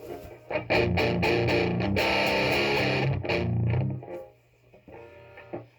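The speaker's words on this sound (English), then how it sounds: "we got overdrive, just by itself" Electric guitar through an overdrive pedal alone plays a quick run of crunchy, loud chords, then drops to a softer tail with a few light notes.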